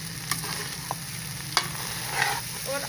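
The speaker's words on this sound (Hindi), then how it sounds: "और आस्ता आस्ता चम्मच हिलाना है ताकि चावल जड़े है वो टुट ना जाए।" A spoon slowly stirs zarda, sweet rice with ghee and sugar, in a pot, giving a soft continuous scraping sizzle with a few light taps of the spoon.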